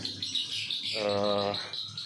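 Busy high-pitched chirping and twittering of many swiftlets, continuous throughout, with a brief harmonic tonal call in the middle.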